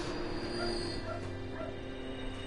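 A dog barks and yips in the Dark Souls III video game, several short, moderately faint calls set against a steady droning game soundtrack, with no talk over them.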